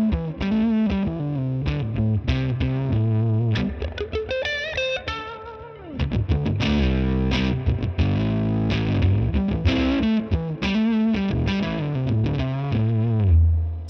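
Electric guitar on the neck pickup through a Mesa/Boogie California Tweed amp simulation, playing distorted chords and single-note lines with a chorus-like shimmer, loud and continuous throughout with no talking.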